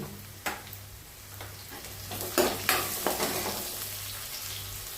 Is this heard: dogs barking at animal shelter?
no